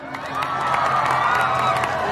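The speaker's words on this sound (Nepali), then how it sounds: "ताली पड्काउनु त" Comedy show audience in Nepal clapping and cheering, a loud, steady wash of applause with whoops and shouts across the whole stretch, no talk over it.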